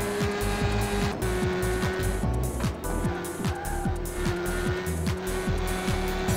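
Car tires squeal repeatedly as a race car spins out in the Le Mans 24 Hours video game, sharp screeches over a droning engine with a steady rhythm of skids, close and loud.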